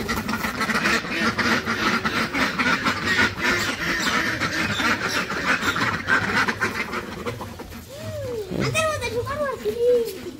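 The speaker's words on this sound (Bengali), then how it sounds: "খাবার দাও হাঁসের" Village ducks quacking while being fed in the morning, a few nasal quacks rising near the end over steady nearby chatter and voices.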